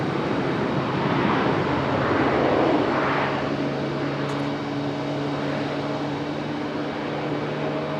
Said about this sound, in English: Alaska Airlines coming in from Seattle.